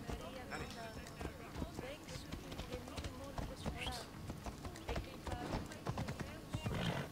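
A horse's hooves clip-clop at a gallop in a video game, a rapid rhythmic clatter running under game music and effects.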